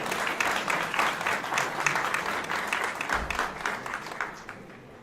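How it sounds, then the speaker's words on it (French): A gala audience in Brussels breaks into applause, a dense, fairly close patter of many hands clapping that swells early, then gradually thins and fades toward the end. "sous vos applaudissements pour un petit mot d'accueil, Madame Lydia Muchebe Lengoy"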